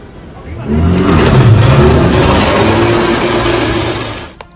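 A car engine revs hard and roars as the car speeds away during a street clash between two Triad gangs, loud and sustained for several seconds with a rising, then fading drone and a brief sharp knock near the end.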